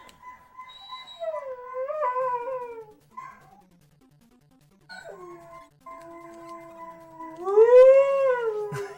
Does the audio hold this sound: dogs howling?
yes